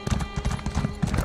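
Hooves of a horse mount in the video game Elder Scrolls Online clop in a quick, regular rhythm, close and distinct over faint background tones.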